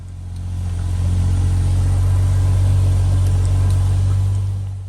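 A 1950 Jaguar Mk V engine, started with the choke on, idles steadily with a low, even rumble, swelling gently and holding a constant throb with no voices.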